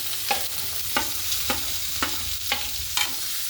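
A spoon scrapes and stirs through corn kernels in a sizzling pan, about six regular strokes over a continuous frying hiss.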